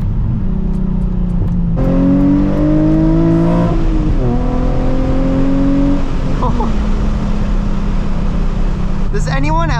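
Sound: Nissan 350z engine revving during a downshift

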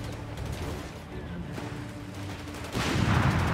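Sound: light machine gun firing in video game Company of Heroes 3

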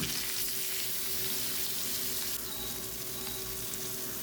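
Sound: masala-marinated Adavu fish frying in a pan

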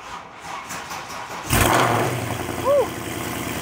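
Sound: cold start of a car engine with VRP cams and long-tube headers

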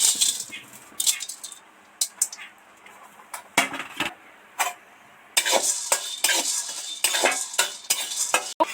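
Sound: frying cloves in pan

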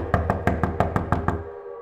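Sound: knocking on a door, audio story sound effect

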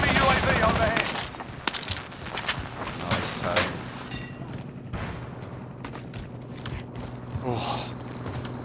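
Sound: gunfire while taking fire in a video game

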